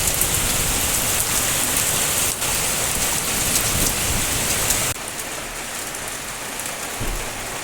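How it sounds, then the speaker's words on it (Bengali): Heavy rain pours down steadily, a dense, loud hiss of drops striking surfaces nearby, dropping slightly in intensity partway through but continuing without a break and with no voices. "এইবার বৃষ্টি নেমেছে, কি শান্তি"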